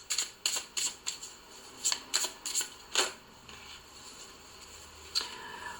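An oracle card deck is cut and cards are drawn, giving a series of quick sharp snaps and flicks in clusters, close and fairly crisp, followed by quieter shuffling.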